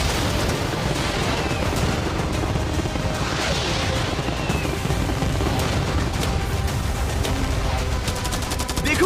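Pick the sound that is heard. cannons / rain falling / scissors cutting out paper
cannons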